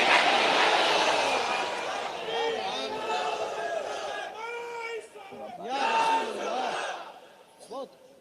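Large crowd at an Islamic religious sermon raising loud slogans together, a dense roar of many voices that swells in waves, with a louder burst near the end.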